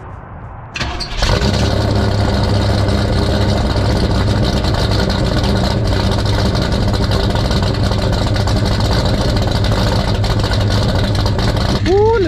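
A carbureted motorcycle engine starts and settles into a loud, steady idle close by, a rough continuous rumble that runs unbroken for about eleven seconds before a brief rising blip at the end.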